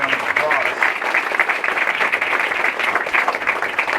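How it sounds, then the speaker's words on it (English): A crowd at an airport terminal ribbon cutting applauds steadily and loudly, continuous clapping filling the room for several seconds. "let's give them all a big round of applause."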